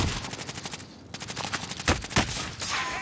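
Gunfire in Call of Duty: Warzone, rapid automatic bursts and sharp shots coming close and loud in quick succession, with a brief gap near the first second.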